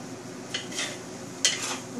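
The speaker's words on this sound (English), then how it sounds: "So stir it till the noodles are cooked." Birthday noodles are stirred in a hot pan, a spatula scraping and clinking twice against the metal over a low, steady sizzle, close and moderately loud.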